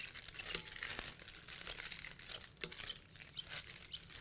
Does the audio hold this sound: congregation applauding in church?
no